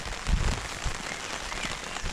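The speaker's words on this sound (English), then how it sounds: "I'm just hoping I've not got to wrap this up early because of the rain." Rain falls outdoors along a disused railway line near Grange Road towards Rowfant, a steady, fairly faint patter with a couple of slightly louder thuds early on and no talking.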